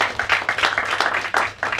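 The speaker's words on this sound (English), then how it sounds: "let's clap for the Amotino" Audience at a PR and communication talk clapping together, a steady dense patter of many hands filling the whole moment without any talk over it.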